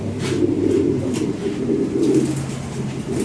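Lahori Sirazi pigeons in a loft give loud, close, rolling coos, a continuous low warbling that swells and fades over a few seconds without any voices.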